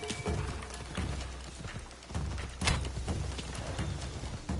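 Hooves clop in a steady galloping rhythm as a horse runs in the video game Assassin's Creed Shadows, the beat fairly loud and continuous throughout, with no speech over it.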